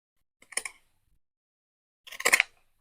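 Material for a recycling-themed scrapbook project being cut with scissors, giving two short crisp bursts of snipping, close and fairly quiet, separated by silence.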